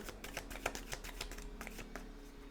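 Tarot cards being shuffled and drawn, a quick run of crisp papery riffles and flicks at close range with no voices.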